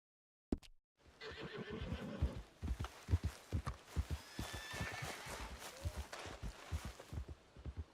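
A horse in Red Dead Redemption 2 whinnies once, then walks on with a steady, close clip-clop of hooves, each footfall distinct and evenly paced, the gait continuing throughout.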